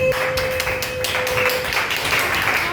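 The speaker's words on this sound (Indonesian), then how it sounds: "Tepuk tangan buat kelompok Melati." Children in an elementary classroom clap for a student group, a steady patter of many small hands with a few sharper taps over a continuous background hum.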